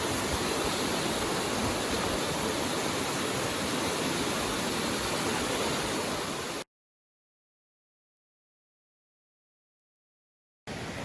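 Forney Creek's flowing water rushes in a dense, steady close-up roar, then cuts out completely for about four seconds before the rushing resumes.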